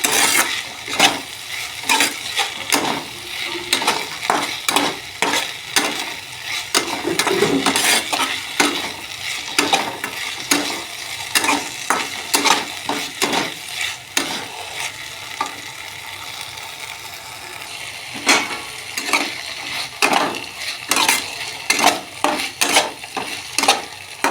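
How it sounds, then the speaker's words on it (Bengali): Drumstick leaves and potatoes frying in a pan for a vegetarian dish are stirred firmly, with repeated sharp scrapes and clacks of the spatula over a continuous close sizzle in an irregular rhythm. "ভালো করে নাড়াচাড়া করতে হবে"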